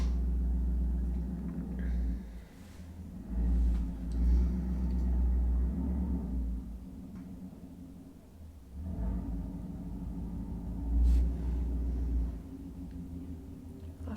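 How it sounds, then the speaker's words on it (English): A neighbour's car passes outside, its engine a low, steady rumble that swells and fades a few times over about fourteen seconds, heard from indoors with no talking. "it's a blooming car from my neighbour, man"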